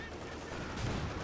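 A grenade blast in the World War II strategy game Company of Heroes 2, a brief muffled boom inside continuous gunfire and battle rumble, heard at a moderate distance.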